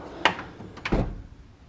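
A tool chest drawer slides and knocks shut twice in quick succession in a garage, close by, with a brief rolling rumble after the second bump.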